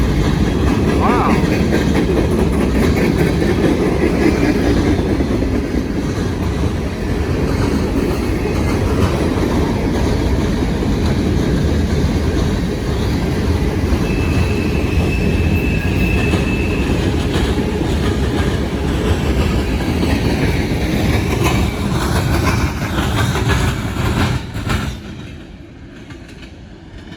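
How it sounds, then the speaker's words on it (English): A fast-moving freight train hauled by a single locomotive rolls past close by, a loud continuous rumble and clatter of wheels with a brief squeal, ending abruptly as the last cars clear and quiet returns. "That train was booking."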